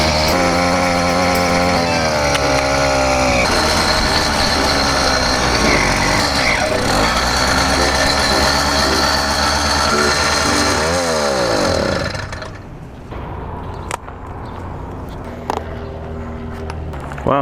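A Yamaha YD100 motorcycle engine, tested while riding after a ramped piston job went badly, drones loud and buzzy with pitch swings as the throttle changes, then drops abruptly to a quieter idle-like putter near the end.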